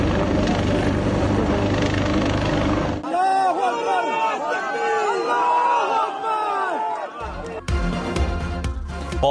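A helicopter works a rescue operation at a broken chairlift in Battagram. Loud, rumbling rotor noise fills the first few seconds, then a crowd shouts and cheers over fainter background noise.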